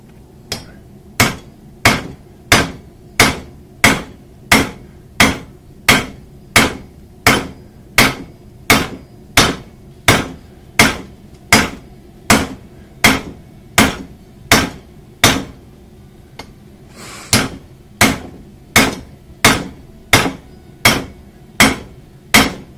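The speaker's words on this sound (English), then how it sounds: "Get it hot enough, use a big enough hammer, get something done." Hot metal struck with a hand hammer at a home forge, a long run of sharp, evenly spaced ringing blows repeating about once a second with one brief pause, loud and close with no talk.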